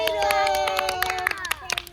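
Children clap in an irregular burst of sharp hand claps that builds toward the end, mixed with overlapping voices at a storytelling session.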